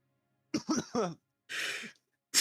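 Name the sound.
cough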